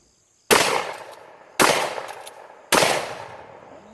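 Riot shotgun fired from the hip during combat shotgun drills: three loud, separate blasts at roughly one-second intervals, each with a sharp crack and a decaying echo, and no talking.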